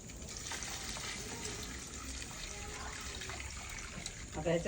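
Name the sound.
pouring hot water into a pot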